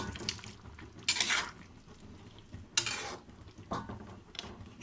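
A spoon stirring a pot of ridge gourd and moong dal curry, with a few scraping, clattering strokes against the pot and soft wet mixing sounds between them, close and fairly quiet.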